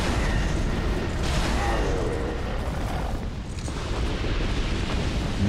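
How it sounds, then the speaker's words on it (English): Bombs blowing up in Dark Souls 2 inside Brume Tower, a dense, rumbling wash of explosions that stays loud throughout with bursts overlapping, speech faintly under it. "you're throwing bombs at me"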